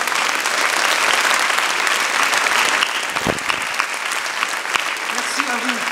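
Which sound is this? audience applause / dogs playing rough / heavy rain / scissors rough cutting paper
audience applause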